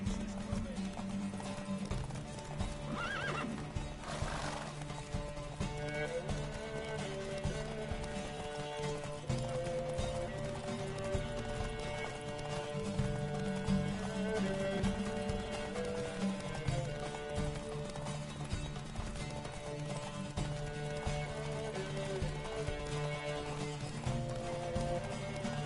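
A horse gallops in a race in The Witcher video game, its rhythmic hoofbeats pounding steadily and close for the whole stretch over a soft tonal background.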